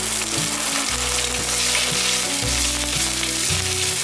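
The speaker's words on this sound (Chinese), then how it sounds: "把秋葵略炒一下，不要炒熟。" Okra stir-fries in a hot wok with ginger slices, a loud, steady sizzle over a low, droning hum, with no voices.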